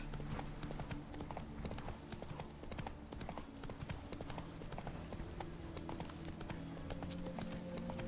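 Roach, the horse in The Witcher 3 video game, gallops in a steady, rapid clip-clop of hooves that carries on throughout, close and fairly quiet, with a brief voice under it.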